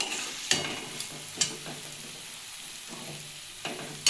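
A spoon stirs cauliflower and potato posto in a hot pan, giving a soft continuous sizzle broken by several sharp scraping clicks against the pan at irregular intervals, close and alone.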